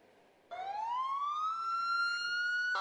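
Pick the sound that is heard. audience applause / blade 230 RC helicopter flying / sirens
sirens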